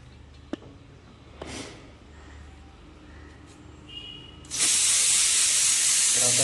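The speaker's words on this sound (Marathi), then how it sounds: "आपण कुकर बंद करतोय, कारण 4 शिट्ट्या झालेल्या आहेत" A pressure cooker of lentils, shut off after four whistles, suddenly releases a loud, steady rush of hissing steam that continues to the end, following a quieter stretch of faint kitchen noise and a few small clicks.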